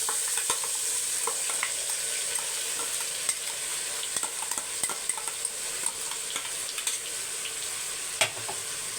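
Ground paste with green chili sizzles in a hot pan as it is stirred, a constant bright hiss broken by frequent small scraping clicks of the spoon. The frying is close and steady, with no voices.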